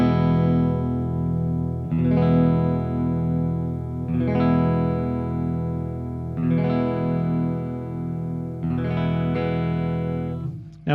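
Electric guitar chords on a 2020 Fender Brent Mason Signature Telecaster, middle position with all three pickups, strummed and left to ring, a new chord struck roughly every two seconds, full and slightly chimey, with no voices.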